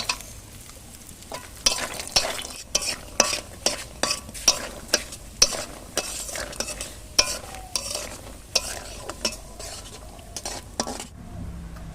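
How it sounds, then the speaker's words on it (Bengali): Peanuts being fried and stirred in a pan, a soft sizzle under a regular series of scraping, clinking strokes of a spatula against the metal, close and steady. "বাদামগুলি সব ভেজে নেব। বাদামটা ভেজে নেই।"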